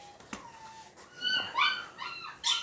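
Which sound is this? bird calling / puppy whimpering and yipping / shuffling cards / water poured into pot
puppy whimpering and yipping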